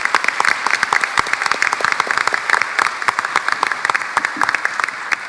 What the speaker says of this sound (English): please help me in a round of applause for the great work